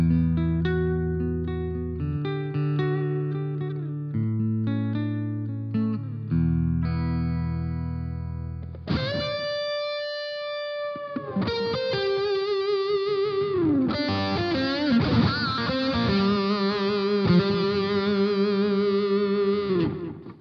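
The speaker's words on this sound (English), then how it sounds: "This is great for searing lead tones and a really warm distortion." A Taylor T5z acoustic-electric guitar plays sustained lead lines and chords with a warm, saturated distortion, ringing notes bending and holding, no voices.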